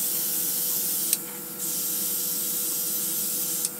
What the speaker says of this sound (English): I want to chrome spray the whole thing,